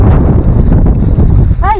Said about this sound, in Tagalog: Hindi siya mainit. Ay! Mahangin.